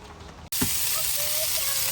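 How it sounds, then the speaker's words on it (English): Sausage fries in a pan at a campground, giving off a steady, close sizzle and hiss that begins abruptly and carries on without pause. "We are frying up some sausage, drinking some coffee."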